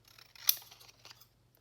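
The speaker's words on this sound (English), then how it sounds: "I'm just going to take and trim around here" Quiet snips and rustling as scissors trim around a printed paper image, made for Christmas collage journal cards. A sharper cut comes near the middle, and a steady low hum sits underneath.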